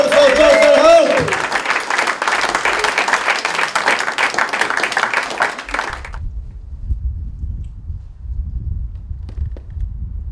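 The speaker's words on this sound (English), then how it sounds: "Let's start clapping. Let's start whooping and cheering." An audience claps, whoops and cheers in sustained, dense applause for about six seconds, then the sound cuts off to near quiet.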